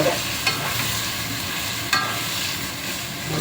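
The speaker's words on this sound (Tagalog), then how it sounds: "Ilagay natin itong gata" Coconut milk goes into a cooking pan of squash with anchovies, giving a soft, steady simmering sizzle with a couple of brief clinks, fairly quiet and without talk.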